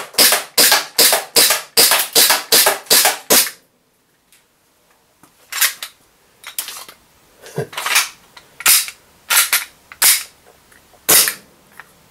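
A WE DP17 airsoft pistol firing: a rapid string of about ten sharp close cracks, a short pause, then a slower uneven series of single shots, no talking.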